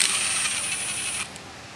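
A pushrod drops into an LS V8 cylinder head and a rocker arm is set down on it, giving a bright metallic clink and rattle up close, then a short faint tick before it falls quiet.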